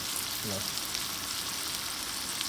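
A breakfast of eggs and vegetables sizzling in a second skillet outdoors, a soft even crackle held throughout at a modest distance, with a brief murmur of a voice near the start.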